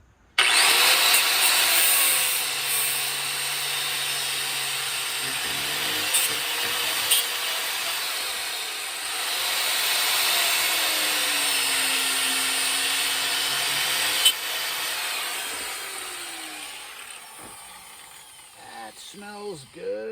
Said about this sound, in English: gonna narrow these bushings with the cutoff wheel.